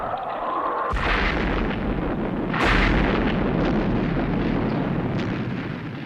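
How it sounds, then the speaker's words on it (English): Missiles fired to clear a rocket's nose cone in a Thunderbirds puppet episode: a sudden loud blast followed by a second heavy boom, then a sustained roaring rumble that fills the rest of the scene with no talking. "You've got to get that nose cone clear by firing the missiles."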